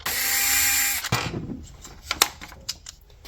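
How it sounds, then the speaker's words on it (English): Screws are backed out of the front mount of a Traxxas Bigfoot 50th anniversary Stampede 4x4 RC truck: a steady whirring power driver for about a second, then scattered small clicks and ticks close by. "you're going to pop your two screws out here on your front mount"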